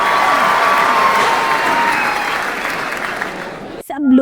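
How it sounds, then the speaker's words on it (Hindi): An audience applauds for a dancer at a competition, a dense, sustained patter of clapping that slowly thins and fades with a brief stir at the end. "सब लोग अनाया के लिए तालियां बजाने लगे।"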